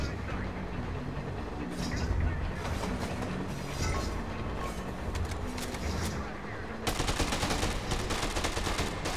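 Gunfire from the zombie game Dead Rising 2, a dense continuous burst of shots and clatter throughout, growing heavier and louder in the last couple of seconds.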